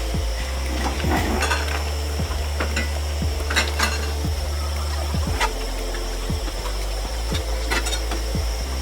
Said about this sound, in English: Once you have added in the fried onions, you'll mix it all up.